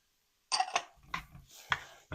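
A spoon scrapes and clinks in a pan as flour is stirred into sautéed vegetables and garlic to start a gravy for shrimp and grits. A few close, uneven strokes follow a short silence, with no talking.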